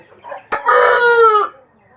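A mega-size rooster weighing over five kilograms gives one loud, close crow. A short sharp onset leads into a long drawn-out call lasting about a second, followed by quiet.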